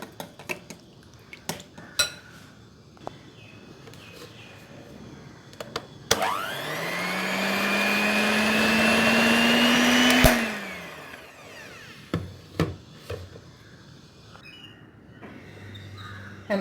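Kitchen whisk mixing a sabja and badam resin batter for an eggless gram flour plum cake: a loud, steady whirring churn lasting about four seconds, set between scattered sharp clinks of utensils against the bowl.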